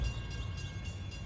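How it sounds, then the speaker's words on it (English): Long Island Rail Road passenger train 8762 from Babylon approaching Patchogue near manual block signals: a steady, fairly loud low rumble of rolling rail cars with faint higher hiss, continuous and without talk. "approaching Patchogue at 11:48 is train 8762 from Babylon"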